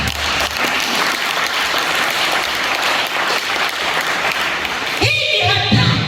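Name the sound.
applause, audience clapping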